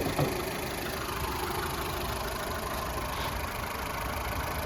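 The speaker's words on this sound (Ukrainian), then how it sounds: "Двигунчик робить рівненько, чистенько" A Volkswagen Golf Plus engine idles steadily and close with its bonnet open, a smooth, even hum that holds unchanged throughout with no voices over it.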